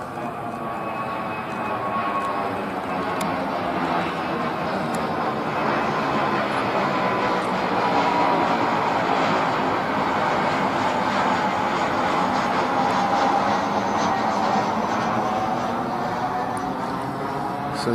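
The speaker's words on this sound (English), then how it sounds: "Oh, there's a plane." Airplane passing overhead near the Sunshine Skyway bridge, a steady broad engine roar that swells slightly toward the middle and lingers throughout without a clear approach or fade.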